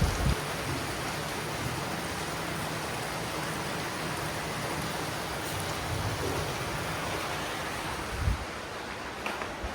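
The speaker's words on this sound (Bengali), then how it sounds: "অনেক বেশি বৃষ্টি হচ্ছিল" Heavy rain pours down in a dense, even hiss that continues without a break, with a couple of faint nearby knocks.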